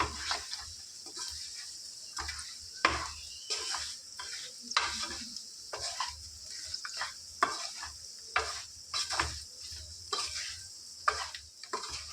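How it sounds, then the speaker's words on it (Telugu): Chicken fry being stirred in a hot pan after three spoons of chili powder and a spoon of masala go in, a steady sizzle under repeated scraping strokes of a spoon, close and alone. "నేను ఒక త్రీ స్పూన్స్ కారం పొడి వేస్తాను ఫ్రెండ్స్ ఒక వన్ స్పూన్ మసాలా వేస్తాను వీటిని చక్కగా కలుపుకుందాం"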